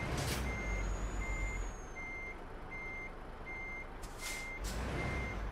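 Euro Truck Simulator 2 truck reversing, a steady chain of regular electronic backup beeps over a constant engine rumble, with a brief air hiss at the start and again near the end.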